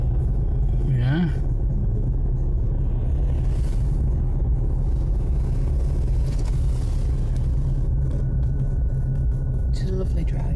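Steady interior road rumble inside a new car cruising along a road, a continuous low drone filling the whole stretch, with people talking over it.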